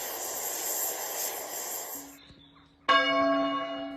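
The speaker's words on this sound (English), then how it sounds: "church bells across the country had begun ringing to mark the death of his mother" Church bells ring out across the country to mark the Queen's death, a loud clanging peal with rich ringing overtones that bursts in after a stretch of jet aircraft engine roar.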